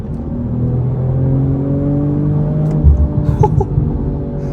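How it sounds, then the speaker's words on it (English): A 2023 BMW M440i accelerates on the highway, heard from inside as a loud, rising engine drone with a few brief crackles and pops toward the end. "And you hear some crackles and pops up top."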